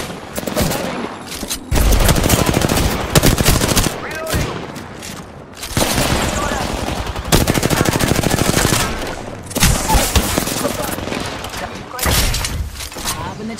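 Rapid gunfire bursts from a competitive ranked shooter match, loud and repeated in volleys that start and stop across the clip, mixed with game effects and a voice talking over it.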